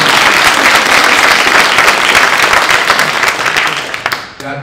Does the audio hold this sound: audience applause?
yes